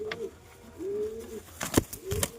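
Pigeons kept in a home loft give a few clear, close cooing calls, each a low drawn-out rolling note, with a couple of brief sharper rustles or wing sounds in between.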